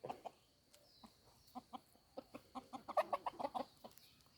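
A chicken clucks in a steady series of short, soft calls, growing a little busier toward the end, fairly close with no talking.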